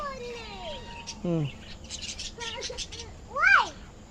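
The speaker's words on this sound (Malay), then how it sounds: "Ada burung juga." Birds chirp and tweet in scattered short calls, with sweeping whistled notes, and voices murmur faintly in the background.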